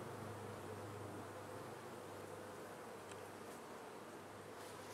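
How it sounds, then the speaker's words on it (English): Honey bees buzz around a hive frame in a steady, dense drone that fills the whole stretch, close and even, with no voices. "I can clear these bees off out of the way"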